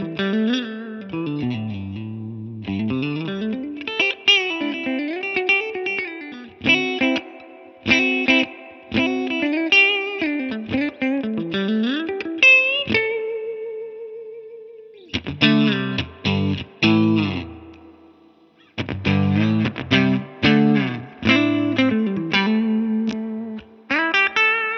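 Guitar through a Mesa/Boogie California Tweed amp model in Amplitube 5 with EQ engaged plays sliding lead lines and choppy chord stabs with short pauses, close and unaccompanied, no talking.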